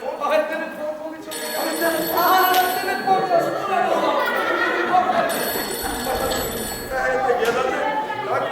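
A telephone rings on stage during a live theatre play, a shrill, sustained electric bell sounding in long bursts close by, over lively talk between actors.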